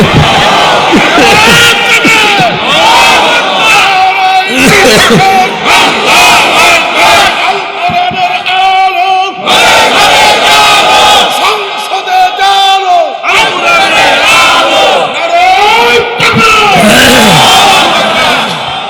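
A large crowd at a Bangla religious sermon gathering roars the takbir chant in unison in response to a call. The loud, sustained collective shouts come in repeated waves.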